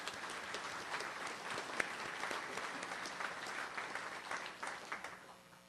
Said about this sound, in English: So round of applause for all of our sponsors.